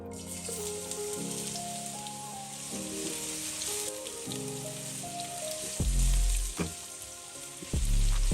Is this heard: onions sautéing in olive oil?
yes